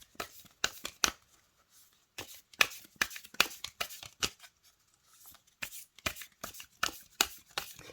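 An oracle card deck being shuffled by hand, with quick riffling bursts in irregular clusters separated by short pauses, close and fairly quiet.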